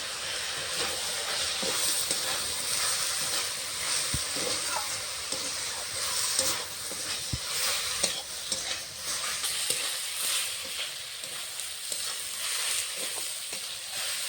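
Cabbage fries in a pan with ground ginger-cumin paste for a vegetarian cabbage ghonto: a constant, even sizzle and hiss, with scattered stirring scrapes and knocks over about fourteen seconds, close and without speech.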